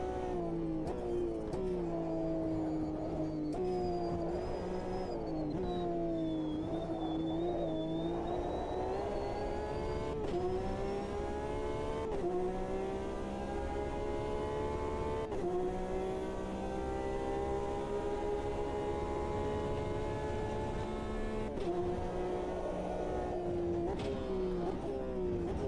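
Race car engine in the sim-racing game Automobilista 2, a DPi prototype in a multiclass Le Mans race, loud and continuous throughout, its pitch rising and falling steadily through gear changes and throttle shifts.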